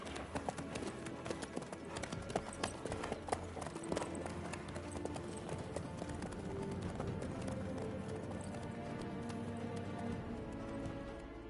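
Horse hooves clip-clop steadily at a trot in Witcher 3, a dense, close rhythmic patter that runs throughout with faint birdsong behind and no talk.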